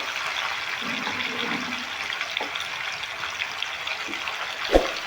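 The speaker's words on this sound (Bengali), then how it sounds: "হাই ফ্লেমে আলুটা ভেজে নিতে হবে একটু লালচে করে" Salted, turmeric-coated potatoes frying in oil over a high flame, a continuous low sizzling hiss with a few faint pops and one sharp clatter near the end.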